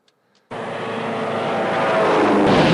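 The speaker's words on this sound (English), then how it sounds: "That's the sound for the escort fighters." After a brief quiet start, a propeller escort fighter engine drone in the game Over the Reich swells in and keeps building steadily louder.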